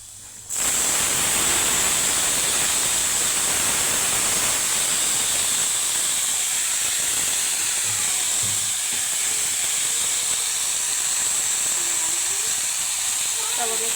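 Radish greens drop into hot oil with browned garlic and set off a sudden, loud, continuous sizzling hiss that holds steady throughout.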